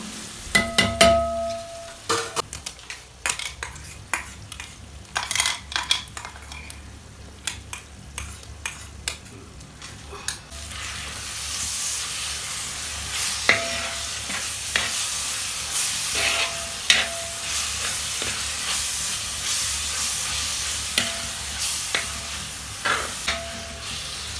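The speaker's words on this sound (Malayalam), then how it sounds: "ഇതിലേക്ക് ഇഞ്ചി വെളുത്തുള്ളി പേസ്റ്റ് ചേർത്ത് കൊടുക്കാം. നല്ലോണം ഇളക്കി മിക്സാക്കി കൊടുക്കണം." Ginger garlic paste stirred and frying in a pan for a homemade chicken biryani: a spoon clinks and scrapes against the pan at first, then a steady, louder sizzle takes over with occasional scrapes, close by with no talking.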